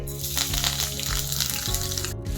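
Garlic, green chillies, asafoetida, turmeric and curry leaves hit hot tempering oil for an Agri Koli style bombil thali, a loud continuous sizzle and crackle with close spattering pops throughout.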